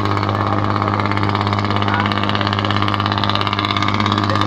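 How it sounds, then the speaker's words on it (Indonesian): A Mitsubishi Fuso Fighter 6D17 diesel engine runs steadily aboard a fast fishing boat, a loud, close, even droning rumble with a fine rapid pulse and no change in pace. "Ah mesinnya suara nih."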